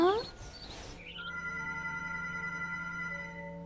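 A telephone rings in the horror video game Among the Sleep, with a sustained electronic tone holding steady for about three seconds after a brief burst of mixed sound at the start.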